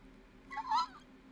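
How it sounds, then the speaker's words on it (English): A cat named Lola gives a single short, moderately close meow over a quiet indoor room hum. "She's been a really good kitty."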